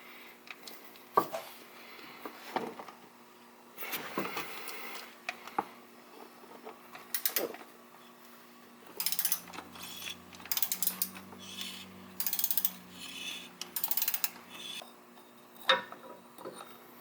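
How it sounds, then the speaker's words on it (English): A ratchet wrench working on the oil filter of a 2018 Toyota Tundra, with bursts of rapid clicking and metallic handling, separated by short pauses, close up and with no one talking. "We're going to line up our wrench."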